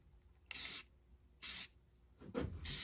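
Spray paint can hissing onto a rifle in three distinct bursts, each about a quarter to half second long with short pauses between, bright, close and alone.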